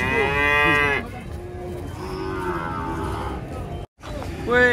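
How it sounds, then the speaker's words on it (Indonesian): A jumbo cow coming off a truck lets out loud, drawn-out moos. A long bellow opens the clip, a lower moo follows and another call begins at the end, with a brief sharp break just before it. "Wih, kedatangan sapi jumbo guys ini guys."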